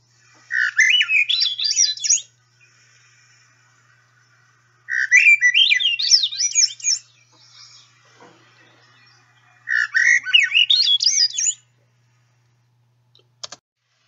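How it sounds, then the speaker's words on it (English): Swainson's thrush singing three separate flute-like phrases that spiral upward, each about two seconds long with pauses between, clear and fairly close against a quiet background. "The Swainson's thrush, we don't hear a lot of those singing on point counts"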